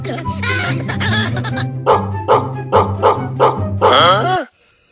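A dog in the Blockman Go Skyblock game barks in a quick string of about six loud, evenly spaced yaps, ending in a higher whining yelp, with game noise and voices underneath.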